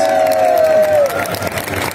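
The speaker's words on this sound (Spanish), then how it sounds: "Fuerte el aplauso para los primeros lugares." Crowd applauding and cheering for the first-place winners at a comics convention idol contest awards ceremony, a loud busy roar with a sustained whistle-like tone early, then steady clapping.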